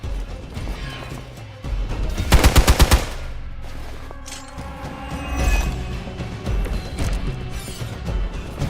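Gunshots in the video game Marvel's Midnight Suns: a quick loud burst of rapid-fire shots, followed by metallic clanks, impacts and mechanical whirring amid ambient game sound effects, without any voices.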